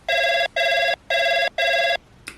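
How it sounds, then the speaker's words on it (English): A telephone rings for an incoming call on a TV reality show, four even electronic ring bursts with short gaps between them, loud and close, with no voices. "Sarah gets a phone call."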